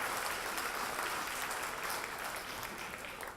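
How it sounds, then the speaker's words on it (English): An audience at a longhouse anniversary celebration gives dense, sustained applause for drummers and dancers, heard throughout at a fairly even, moderate level. "give them all another round of applause for their great work"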